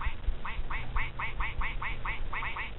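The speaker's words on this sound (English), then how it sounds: "It quacks. Whenever I type, it quacks." Duck quack sound effects triggered by typing on a keyboard, about a dozen short nasal quacks in quick irregular succession over a low rumble, played close.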